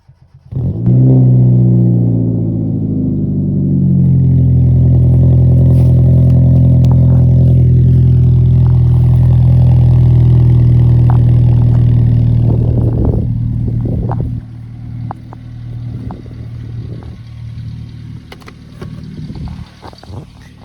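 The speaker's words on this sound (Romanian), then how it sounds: "Hai să vă pun aici un cold start puternic și plecăm" Hyundai Tiburon engine cold-starting loudly, a sharp rise into a sustained high idle that holds for about twelve seconds, then drops to a lower, rougher idle with clatter and knocks nearby.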